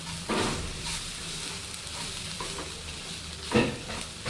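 Quiet frying with a soft sizzle as spiced vermicelli is stirred in a kadhai, with a few louder scrapes of a spatula.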